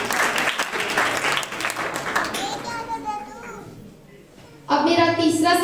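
Loud applause and cheering from a crowd, many of them children, at a church Christmas quiz program. It dies down midway, then a voice speaks over a quieter room.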